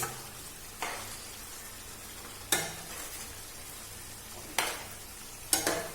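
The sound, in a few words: fried paneer added to a pan and stirred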